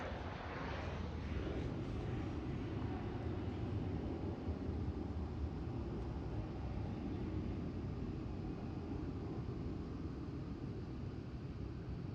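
A British Airways airliner at Amsterdam Schiphol airport gives a steady, loud broadband engine roar with wind rush that holds throughout, fairly close and unbroken.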